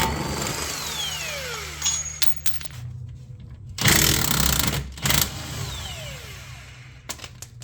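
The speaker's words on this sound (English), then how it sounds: "I guess I'm gonna just start off by taking the axle nut off" An air or power tool works loose the 36 mm axle nut on a 2004-2008 Acura TSX, with spin-down whine, clanks and a loud burst of rattling impact hammering mid-clip, followed by scattered metallic taps.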